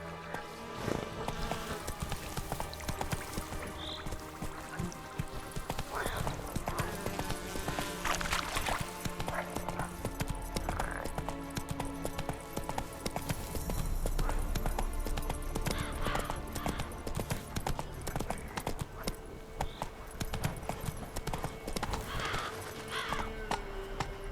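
Horse hooves galloping in The Witcher 3 video game, a continuous quick clip-clop rhythm over an outdoor ambience, with occasional faint whinnies.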